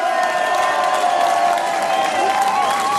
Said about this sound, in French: Nous allons applaudir les 5 maires qui ont eu le courage de ne pas signer le permis d'aménager des bassines